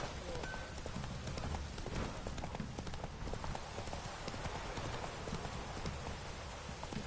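Roach, a horse in the Witcher 3 video game, gallops with continuous rhythmic hoofbeats under a dense layer of game ambience, steady and moderately loud throughout.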